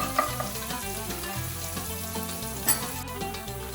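Steady crackling sizzle of garlic frying in olive oil, dense and close, with a couple of brief clinks of stirring.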